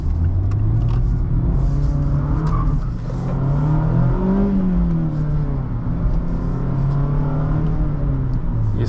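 2023 Mazda Miata MX-5 ND2 Club, around 1,200 miles into break-in, pulling hard under acceleration: a loud, steady engine drone rises in pitch through the revs, dips briefly at a shift, then climbs again, heard from inside with road rumble.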